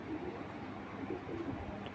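A racing pigeon gives faint, low cooing calls in a loft, a few soft murmurs over a steady background hum, with no voices.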